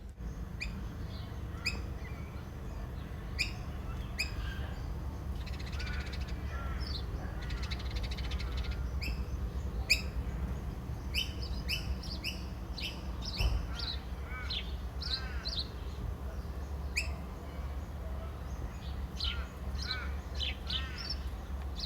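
Crows caw repeatedly in a steady outdoor chorus, with smaller birds chirping among them over a constant low background rumble.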